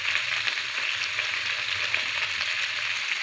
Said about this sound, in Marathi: आता मी या पॅनमध्ये ती पण परतून घेणार आहे लो फ्लेमवर 5 मिनटं.